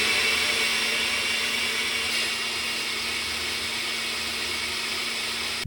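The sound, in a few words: electric blender mixing yogurt, gram flour and spices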